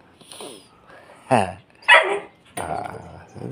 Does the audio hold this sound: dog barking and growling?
yes